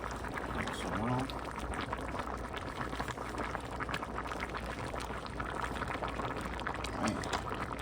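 Shrimp dropped into a pot of bubbling liquid for a peanut soul-food seafood boil, with steady rolling boiling and a couple of soft splashes, and a voice talking faintly over it.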